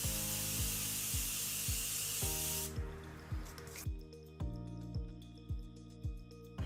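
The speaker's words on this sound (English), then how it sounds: "I'm going to apply some setting spray." A steady, close hiss of setting spray for a few seconds, then it stops, with rhythmic background music playing throughout.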